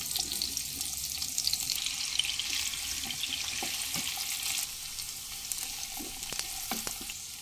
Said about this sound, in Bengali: আলু ভেজে নেওয়ার তেলের মধ্যেই আমি দিয়ে দেব এঁচোড়গুলো, যেগুলো সিদ্ধ করে রেখেছিলাম দিয়ে দেব। একটু হালকা করে ভেজে নেব।